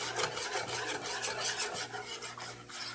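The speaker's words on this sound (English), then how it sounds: "you're going to give it a whisk" A metal whisk rasps and scrapes rhythmically against a pan as raw flour is stirred in while making smothered pork chops, a steady close scratching with repeated strokes and no talking.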